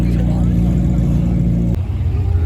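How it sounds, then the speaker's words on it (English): A McLaren 720S sports car fitted with an aftermarket exhaust drones with a steady, loud engine note at a car show, holding constant before dipping briefly near the end. "Oh, it's got an exhaust. It's got a tuned exhaust."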